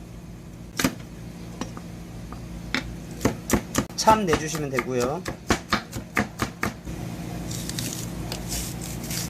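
A knife chops vegetables on a cutting board in a run of sharp, rhythmic taps, close by, with a voice speaking briefly.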